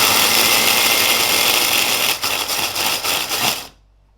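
A kitchen blender whirs loudly and steadily while grinding gluten-free breadcrumbs, its tone faltering briefly near the end before it cuts off into silence.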